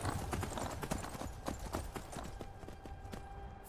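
Horse hooves galloping in the video game Skyrim Remastered, a fast steady clip-clop rhythm close up, with a faint whinny among the hoofbeats.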